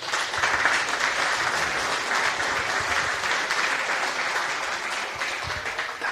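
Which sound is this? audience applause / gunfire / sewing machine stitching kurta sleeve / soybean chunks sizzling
audience applause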